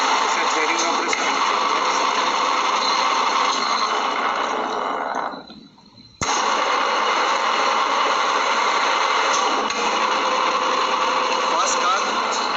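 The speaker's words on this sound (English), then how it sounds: "It's a threading operation." A machine runs a thread-cutting pass, giving a loud, steady mechanical drone that drops away briefly midway, then resumes at full level.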